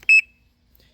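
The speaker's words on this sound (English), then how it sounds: "when you engage the locker, it beeps again" A single short electronic beep from a 2022 Can-Am Renegade 650 XMR ATV as its drive mode is switched, clear and close, followed by near silence.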